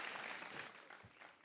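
Studio audience clapping on a Hindi comedy show, a steady, dense wash of applause throughout that fades slightly toward the end.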